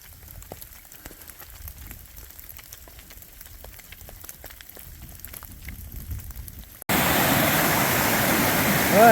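A mountain stream rushes near a river ford on Baker Peak in the rain, a steady broad wash of flowing water that abruptly turns much louder and closer near the end.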